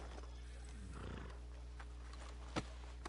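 A horse in the video game Red Dead Redemption 2 clip-clops and whinnies over a steady bed of in-game ambience, with no talk.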